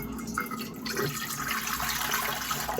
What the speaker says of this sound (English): Here's 3 3/4 cup of warm water.